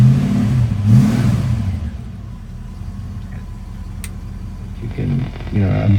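A cold Mercury Cougar XR7 engine idles with a steady low rumble throughout, with someone talking over it near the start and again at the end.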